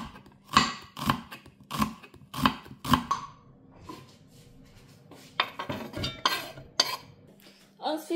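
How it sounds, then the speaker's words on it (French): A knife chops onions into small pieces on a board, a run of sharp evenly spaced cuts followed by quicker, lighter strokes, up close with faint kitchen clatter and no talk. "Je vais émincer les oignons en petits morceaux"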